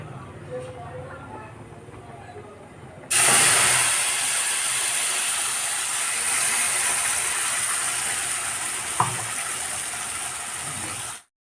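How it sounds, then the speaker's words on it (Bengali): Spice paste, ground in a mixer and made with mustard, drops into hot oil at about three seconds and sets off a sudden loud, steady hissing sizzle. The sizzle runs close until it cuts off abruptly near the end, after quieter kitchen sounds at the start. "এবার আমি যে মশলাটা পেস্ট করে রেখেছিলাম মিক্সিতে, সেই মশলাটা আমি এই তেলের মধ্যে ছেড়ে দেব"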